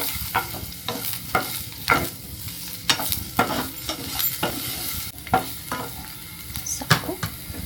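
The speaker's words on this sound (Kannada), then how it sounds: "ಅದನ್ನು ಸಾಟೆ ಮಾಡ್ಕೊಳ್ಳಿ." Chopped onions sautéing in a pan with green chillies, a constant sizzle broken by repeated scraping strokes of a spoon, close and moderately loud.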